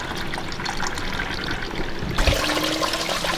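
Water is poured through a hose into the top of a car radiator to flush old coolant during a coolant flush, a steady trickling, splashing flow that turns louder and fuller partway through, close by with no talking.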